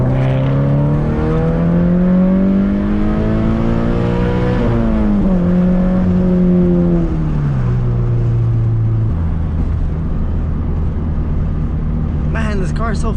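Car engine revving and accelerating from inside the cabin, pitch climbing and dropping through shifts before settling into a steady drone, with someone talking over it.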